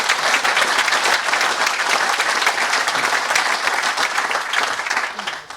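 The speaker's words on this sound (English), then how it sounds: "So please, can we give Jenny a round of applause?" A crowd at a golf course's official opening applauds steadily for about five seconds, dense clapping that stays loud and even before tapering off at the end.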